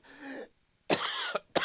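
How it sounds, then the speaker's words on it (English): A man clears his throat and coughs in short bursts, one rough rasp followed by a pause and then two harsher coughs, near and fairly loud with no words spoken, from someone suffering allergy congestion on a Monday morning. "Man, I've been coughing like crazy this morning."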